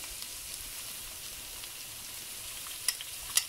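Shrimp sizzle in a pan over a high flame, a soft, steady frying hiss with a couple of sharper pops near the end.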